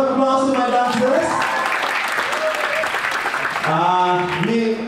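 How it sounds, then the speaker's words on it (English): Audience applause for dancers at a stage show during a speech contest event, a sustained dense wash of clapping lasting the whole stretch, with music tones and a voice sounding over it near the start and end. "Give a round of applause to my dancers."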